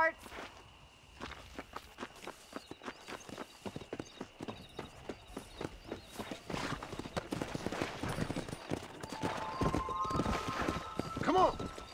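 Hooves of horses clip-clopping and galloping in the Western video game Red Dead Redemption, steady rhythmic hoofbeats building faster and louder, with a horse whinny near the end and game music beneath.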